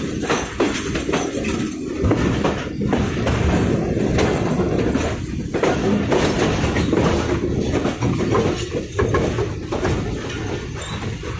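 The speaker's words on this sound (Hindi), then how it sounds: "ट्रैक साउंड आप सुन रहे होंगे, कितना कमाल का ट्रैक साउंड प्रोड्यूस कर रही है हमारी कोचेस" Inside a moving Pakistan Rail AC sleeper coach on the Karachi to Multan run, a loud, continuous rumble carries rapid rhythmic clatter of wheels over the track joints, with occasional metallic squeals.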